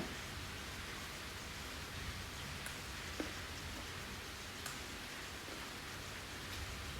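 Heavy rain pours down in a steady, even hiss heard from indoors, soft and continuous for several seconds, with a few faint drips or knocks standing out and no voices.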